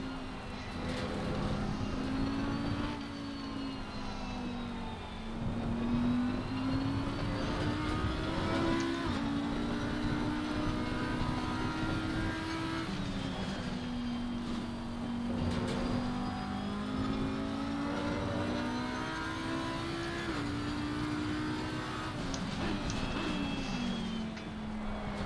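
A race car laps the Hungaroring circuit in a winter series race, its engine droning steadily and rising and falling through gear changes and braking for the chicane, loud and continuous with no talk.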